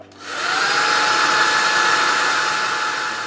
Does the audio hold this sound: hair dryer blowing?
yes